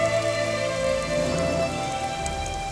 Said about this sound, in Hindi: लगता है बारिश नहीं रुकेगी